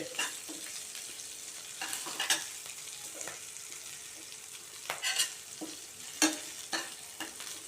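Green chillies sautéing in a pan for tamarind thokku, a low continuous sizzle punctuated by scattered scraping stirs of a spoon against the pan, close and fairly quiet, without speech.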